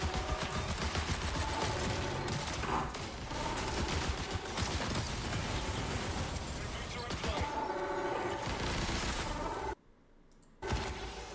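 Dense, continuous gunfire fills a firefight in the video game Marathon, loud and reverberant off walls, with bursts overlapping equipment clatter before a brief drop near the end.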